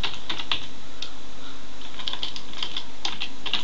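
Keys clatter on a computer keyboard in a steady, close run of quick taps with short pauses, as someone types a line of code in Notepad. No voices are heard.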